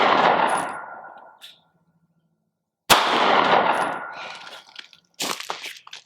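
Sig P365 Gen 2 pistol fired at a steel target at 100 yards: two loud sharp reports, each with a long rolling outdoor echo, then a cluster of quicker cracks near the end.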